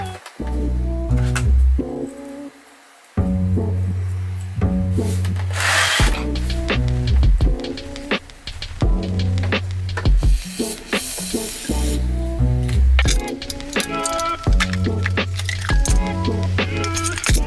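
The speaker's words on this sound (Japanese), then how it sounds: "カバーをはめたらボルトとナットで固定します。" A water-leaking pump's casing cover is fastened with eight bolts and nuts: clinking metal, rattling hardware and tool clicks come in irregular bursts over a background hum, close up, without speech.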